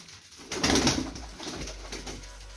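Pigeons in a loft give soft, low cooing calls up close, with a brief rustle of movement partway through.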